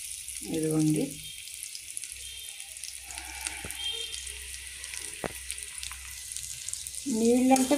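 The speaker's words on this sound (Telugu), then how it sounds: "నీళ్ళు అంటే కొంచెం ఎక్కువ కూడా వేసుకోవచ్చండి." Water is poured into a hot frying pan while making samalu upma, giving a soft running hiss and low bubbling between short stretches of nearby speech at the start and end.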